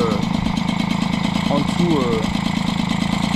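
A Peugeot 103 moped fitted with a Gilardoni 50cc engine runs at a steady rapid putter throughout, close and loud, while someone speaks over it.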